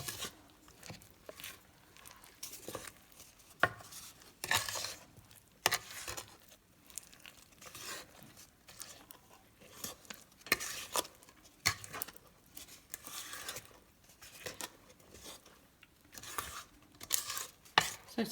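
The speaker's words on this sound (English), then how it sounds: "And now I'm going to fold in all these fruits." Fruits are folded into a Kerala-style rum plum cake batter, giving repeated soft wet slaps and scraping strokes in an irregular rhythm. The sounds are close and fairly quiet, with no talking.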